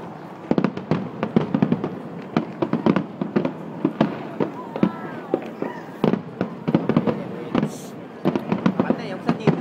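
Dense fireworks display of many shells bursting in rapid irregular succession, loud crackling bangs close and distant overlapping for the whole stretch, with people talking faintly underneath.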